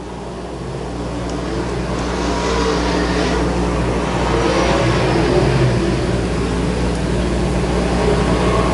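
Modified stock cars racing at East Bay Raceway Park, engines roaring continuously and swelling louder as the field passes, a sustained mechanical drone with no voices.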